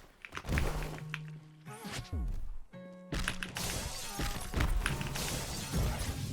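Slam attack combo in the Roblox game Jujutsu Shenanigans, heavy game impacts and shattering crashes hitting in bursts alongside music-like tones, with someone talking over it.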